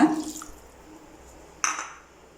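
Water is poured into vada curry in a pan: a quiet frying hiss, then a short, sudden splash of liquid near the end, close and fairly soft, with no talking.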